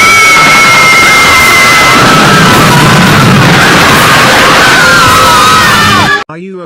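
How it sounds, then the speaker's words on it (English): A cartoon house being blown up: a loud, chaotic burst of bangs, crashing debris and shrieking, whistling tones that runs for several seconds, then cuts abruptly to a brief voice at the end. "We heard an explosion just now."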